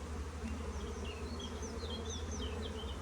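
Honey bees buzzing on a hive frame during a nuc transfer, a continuous close, droning hum with a few individual bees whining past, steady throughout with no talk.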